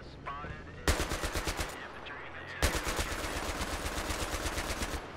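Machine gun fire in the video game Battlefield 3 on the Caspian Border map: two loud, rapid bursts of evenly spaced shots, the second one longer and sustained, with a faint voice underneath.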